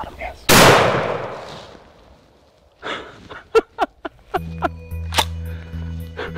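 A single loud 20 gauge shotgun blast during a late season turkey hunt cracks out sharply and decays, followed after a pause by scattered clicks, rustling and a few faint voices.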